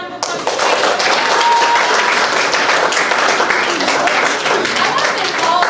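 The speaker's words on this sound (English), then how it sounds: "Can we give her a round of applause?" Applause from an audience at a school spring recital, steady dense clapping filling the hall from start to finish, loud and close.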